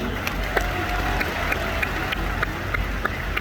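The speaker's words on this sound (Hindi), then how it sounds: "और एक बार तालियां इसी बात पे।" Audience clapping at a health talk in Haridwar, a steady dense patter of many hands filling the whole moment at moderate loudness, with no voice over it.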